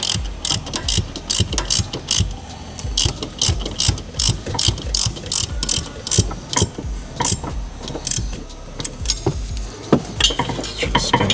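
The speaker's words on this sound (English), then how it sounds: "Go and use our 14. Get it tightened down." Ratchet wrench with a 14 socket tightening a bolt during an Air Lift suspension install on a Dodge/Chrysler, giving rapid, close, repeated clicking in quick bursts with short pauses between strokes.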